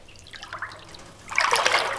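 Water is poured over ground ore being washed to recover mercury in artisanal gold and silver testing, a close trickle and dribble that builds into a louder splashing stream in the second half.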